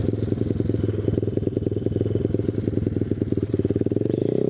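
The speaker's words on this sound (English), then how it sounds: "The ZS190 motor in one of these Grom clones is" A Grom clone motorcycle with a ZS190 motor is ridden close by, its single-cylinder engine putting out a rapid, steady, loud thumping pulse that eases toward the end.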